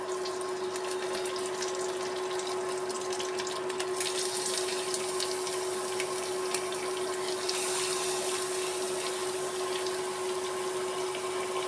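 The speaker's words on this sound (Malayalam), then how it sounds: "എണ്ണ ചൂടായിട്ടുണ്ട്. കുറച്ച് കറിവേപ്പില ഇടാം. മത്തി ഓരോന്നായി വെച്ച് കൊടുക്കാം." Sardines and curry leaves fry in hot oil, giving a steady, dense sizzling hiss over a constant low hum, with no pauses throughout.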